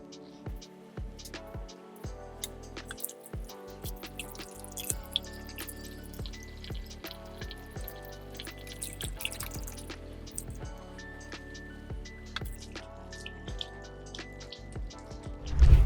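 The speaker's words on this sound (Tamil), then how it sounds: "ஹேர் வாஷ் பண்ணியாச்சு." Water runs and drips during a hair wash after a keratin treatment, with scattered splashes and trickling close by over a steady wet background, no talking.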